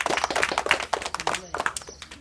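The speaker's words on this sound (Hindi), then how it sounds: "देखो भैया के लिए ताली बजाओ" Children clap for a man at a village community gathering in Azamgarh district, producing a quick, uneven burst of sharp claps mixed with voices talking nearby.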